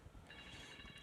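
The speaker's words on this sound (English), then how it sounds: "I think that's my phone." A mobile phone rings from inside a zipped bag pocket, producing a faint, steady electronic tone over a low, muffled background.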